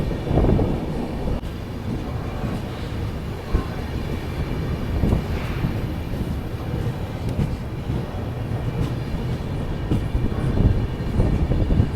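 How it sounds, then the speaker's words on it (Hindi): The Khajuraho Udaipur Express rolls into Sithouli railway station on a sunny day, a low continuous rumble of wheels and carriages with wind buffeting the microphone, heard from aboard the moving train. "ये देखो अभी अपनी ट्रेन पहुँच रही है सिथौली रेलवे स्टेशन,"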